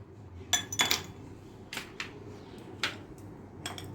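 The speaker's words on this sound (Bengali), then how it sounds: "এখন আমি এখানে আইস কিউবগুলো দিয়ে দিচ্ছি।" Ice cubes dropped two or three at a time into a bowl of strained watermelon juice, giving a few sharp clinks and clatters spaced across several seconds over a low background hum.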